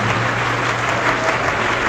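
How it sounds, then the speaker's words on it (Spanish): Steady, dense applause from an audience at a church debate, loud and continuous throughout with no voices over it. "Me honran sus aplausos, pero que sean para Dios"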